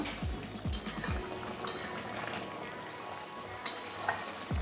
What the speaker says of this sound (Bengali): গরম মশলা দেওয়ার পর একটু ফুটিয়ে নিলাম